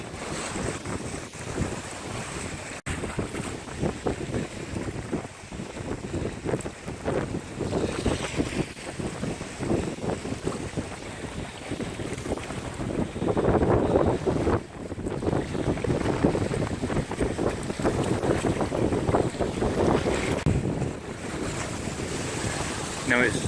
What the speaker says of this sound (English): That's how loud the wind and the waves are.